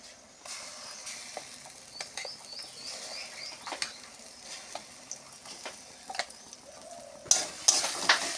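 A thick ground lentil paste fries quietly in a pan with soft sizzling and repeated scraping stirs, ending in a brief louder crackle.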